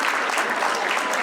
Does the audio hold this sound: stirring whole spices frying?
no